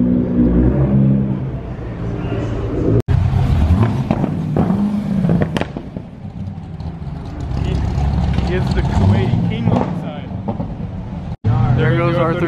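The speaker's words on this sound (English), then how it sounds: "He's revving. He's trying to one up him." A sports car engine revs and roars repeatedly, loud and close, on a Beverly Hills street, mixed with traffic noise and people talking throughout.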